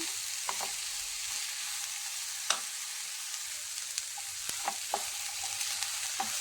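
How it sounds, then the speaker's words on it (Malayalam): Shallots sautéing in oil for a curry, a steady close sizzle with occasional sharp clicks of a spoon stirring against the pan. "ഇതിൽ വെളുത്തുള്ളി ചേർക്കില്ല, ചെറിയ ഉള്ളിയാണ് ചേർക്കുന്നത്. ഇത് 1-2 മിനിറ്റ് സമയം എണ്ണയിലിട്ട് ഒന്ന് വഴറ്റി കൊടുക്കണം."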